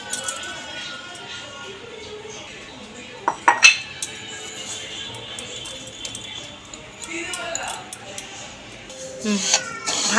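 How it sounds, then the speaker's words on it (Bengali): Dry broken wheat (dalia) being stirred in a dry kadai with a spatula, giving scattered scraping and clinking against the metal pan, with brief louder bursts of stirring under intermittent talk. "এবার আমি শুকনো কড়াইয়ের মধ্যে প্রথমে ডালিয়াটাকে একটুখানি ভেজে নেব।"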